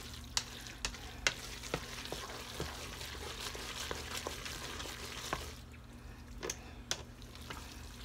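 Cheese melting with butter in a pot for mac and cheese, stirred with a steady scraping rhythm under a soft, continuous sizzle, with sharp clinks of the spoon against the pot.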